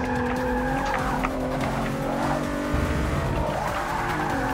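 In Forza Motosport 6: Apex, a race car spins out with sustained squealing, skidding tires over a loud engine whine, rising and falling pitch across several seconds.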